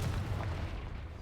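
Confringo blasting spell going off in Hogwarts Legacy, a deep booming explosion rumble that sustains and slowly fades, loud and alone.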